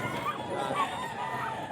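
Roosters of fighting-cock breeds such as tuffy, bulik and hennie, kept for sale in Bocaue, crowing and clucking close by in a steady, overlapping chorus.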